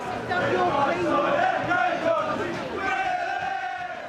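Stadium crowd at a football match, a steady dense roar of many voices and shouts from across the ground, loud and continuous throughout.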